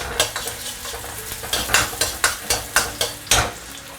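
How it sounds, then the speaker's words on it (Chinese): Ginger, garlic and dried shallots stir-fried over high heat in chicken fat in a wok, a steady sizzle broken by about a dozen rhythmic scraping strokes of the spatula against the metal, close and fairly loud, with no talking. "下入姜蒜片，还有干葱，这个大火给它先炒香。"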